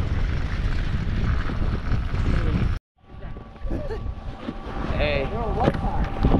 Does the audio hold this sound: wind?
yes